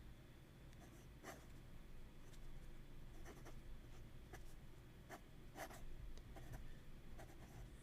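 An extra flex fountain pen nib scratches across paper in close, faint strokes, with soft intermittent scraping taps as letters are formed.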